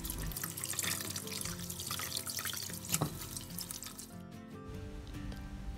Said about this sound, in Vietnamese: rửa cam qua nước sạch trước nha